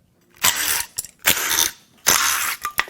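A ratchet loosens a 10mm bolt on a worn-out Ford F-250 6.4L Powerstroke turbodiesel engine during teardown: three close, rapid bursts of clicking with short pauses between them, and no talk.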